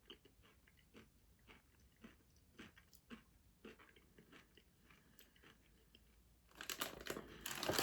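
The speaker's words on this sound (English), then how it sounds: "you have to have a good set of teeth to eat these because these are so crunchy" Someone bites and chews a very crunchy Scandinavian tomato-flavoured snack up close, with sharp, evenly spaced crunches followed by a louder burst of packet crinkling at the end.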